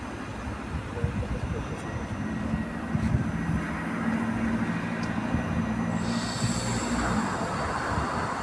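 An EN57 electric multiple unit runs past on a Polish railway line toward Wejherowo, a steady rumble of rolling stock with a brief high squeal near the end and light voices in the background.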